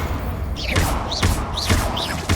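Confringo blasting spell strikes in Hogwarts Legacy, three or four sharp impacts with swooshing trails in quick succession over a low rumbling game backdrop, fairly loud and close.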